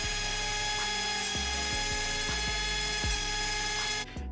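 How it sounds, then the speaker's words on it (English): Dremel rotary tool grinding down foam on a carbon steering wheel for a BMW M4, a close, steady high-pitched whine with rapid rhythmic clicking pulses, stopping abruptly near the end. "I am going to take the Dremel again and bring it down just slightly more"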